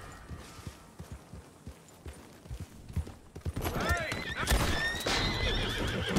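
A horse in Red Dead Redemption 2 whinnies loudly and its hooves clop, rising out of quieter game ambience with scattered taps into a sustained, close neigh over the last few seconds.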